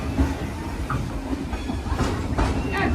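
Dollywood Express steam train rolling on its rails, a steady near rumble with clickety-clack of wheels and occasional faint squeals, no talk.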